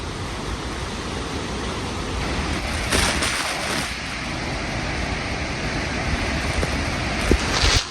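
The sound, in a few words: Arvalem waterfall in Goa rushing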